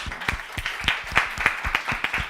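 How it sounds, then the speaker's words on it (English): A small audience claps for panelists at a food-waste session at Expo Live, Expo 2020 Dubai; sparse, distinct nearby claps fall in a loose uneven rhythm, moderately quiet, with no voices over them. "So please help me in giving them a round of applause one more time."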